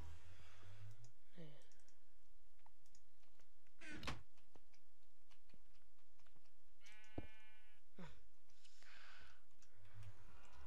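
Donkey calls in the Minecraft video game: a few short bleating brays spread across the stretch, with sharp clicks and game noises between them and no talk.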